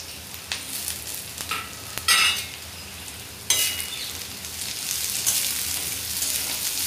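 Crushed garlic sautéing with onions in a hot pan, a steady sizzle broken by a few scraping stirs of a spatula.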